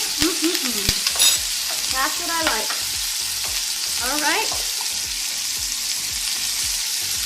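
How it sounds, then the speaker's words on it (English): Onions sizzle and crackle steadily in a hot pan, with brief stirring clatter and a voice speaking briefly over the cooking. "we're going to start with some onions. You hear that sizzle?"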